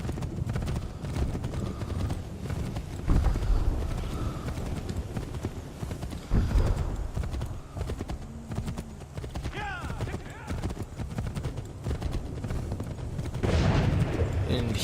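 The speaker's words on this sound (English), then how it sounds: "And hear the artillery there." In Assassin's Creed 3, distant artillery booms thud a few times under a continuous outdoor battle din, with voices talking and hooves clopping in the foreground.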